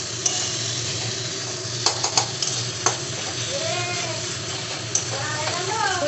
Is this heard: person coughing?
no